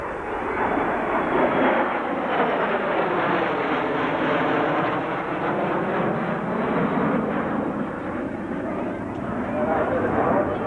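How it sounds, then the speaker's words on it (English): An F-16 Fighting Falcon fighter jet roars through a single pass at an air show, its steady, loud engine noise with a sweeping tonal whine, the pitch gliding down and back up as it goes by. "The F-16 Fighting Falcon. One pass."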